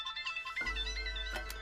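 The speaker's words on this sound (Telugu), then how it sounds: "తాతయ్య, నేను చెప్పాను కదా సీను గారు ఫోన్ చేస్తాడని" A phone rings in a Telugu sports-action drama film, giving a soft, repeating electronic ringtone melody under a low background hum.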